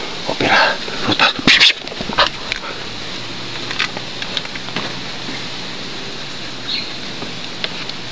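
A dog makes short whimpering, sniffing sounds close by early on, over a steady outdoor hiss that may be light rain, then quieter scattered noises.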